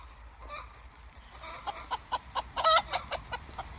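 A hen clucks after laying an egg in a rising series of sharp, insistent calls, growing louder and faster toward the end, over quiet farmyard background.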